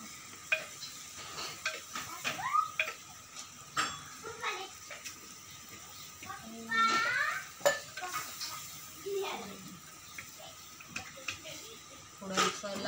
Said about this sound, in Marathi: मस्त कलर येईपर्यंत परतून घेते.